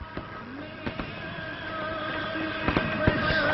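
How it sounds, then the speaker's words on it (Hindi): Fireworks burst at a Ramlila ground during Ram Navami celebrations, with scattered sharp cracks and pops over a continuous distant crackling rumble, fairly faint and without talk. "काफी देर से आतिशबाजी चल रही है और आतिशबाजी लगातार जारी है"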